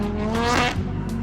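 A Nissan S15 with an SR20 engine and a straight cam runs close by, a brief loud rough rasp with a short rev swell in the middle.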